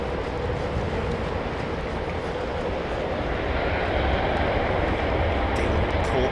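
Jet airliner engines spooling up on the runway at London Heathrow, end of 09 right, a broad steady roar that holds loud and even for the whole stretch with no voices.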